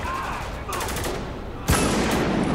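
Gunfire in the war shooter Spec Ops The Line, a single loud sharp blast near the end landing over a dense rumble of battle noise, no talking.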